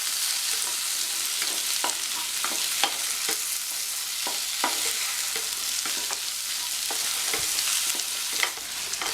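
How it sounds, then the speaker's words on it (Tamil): Vegetables sautéing with salt in a pan for a Tamil variety rice dish, a steady close sizzle broken by frequent sharp scrapes and taps of a stirring spoon, with no talking. "உப்பு சேர்த்துட்டு இந்த காய்களை 2-3 நிமிஷம் போல் வதக்கிக்கலாம்."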